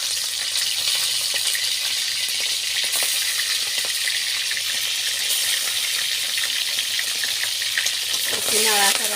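Prawns hit hot oil in a wok for a bitter gourd and potato prawn chorchori, a loud, dense, continuous sizzle held close throughout, with a faint scrape near the end.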